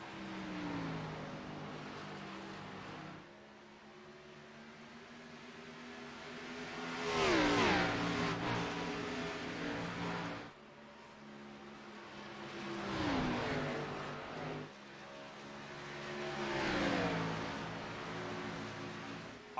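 Race car engines in a sim racing game of an Xfinity Series race at Dover International Speedway: engine drone that swells and fades as cars sweep past in waves, rising and falling in pitch, with no commentary over it.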